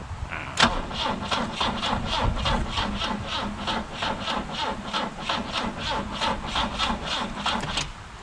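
A BMW E21's engine cranks over repeatedly without catching, the starter turning in a steady rhythmic churn for several seconds, close and loud with no speech.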